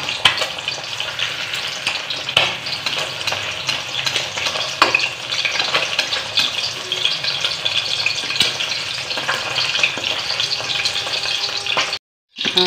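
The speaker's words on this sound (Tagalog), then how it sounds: "Piprito tayo itlog." An egg fries in oil, a loud, dense, spattering sizzle close by with stirring clatter from a ladle, continuous apart from a brief dropout near the end.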